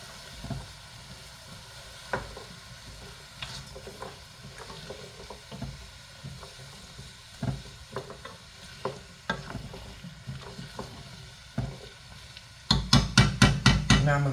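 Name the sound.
carrots being added and cooked in a soup pot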